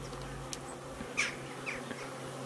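Honey bees at a beehive during winter preparation make a steady, close buzzing hum throughout, with a few individual bees droning louder as they pass near.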